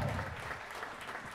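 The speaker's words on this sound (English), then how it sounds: "Give a nice round of applause." Wedding guests at the Park Pavilion in Seaside Park clap for the parents, a short burst of crowd applause, fairly faint and even throughout.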